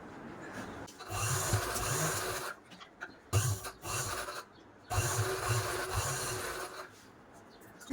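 A banana leaf offering plate is stitched on a sewing machine, with two long bursts of close, rapid whirring and rasping stitch noise separated by quieter pauses of handling.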